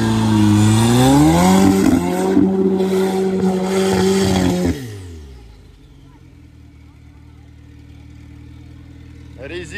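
Off-road trophy sprint vehicles on a muddy track, one 4x4 on 37-inch Wanda tyres, engines loud and revving up close for several seconds, then cutting to a low distant idle hum with voices talking over it.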